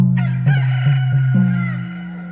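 A loud, drawn-out rooster crow rings out close by during a rooster dance at a Konkan Naman folk theatre show, one sustained call of about two seconds with a few wavering breaks.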